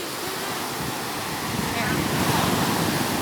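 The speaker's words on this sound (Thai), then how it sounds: "วันนี้เรามาฟังเสียงคลื่นทะเล" Steady broadband roar of sea waves washing in, swelling slightly louder toward the end, with no clear voices.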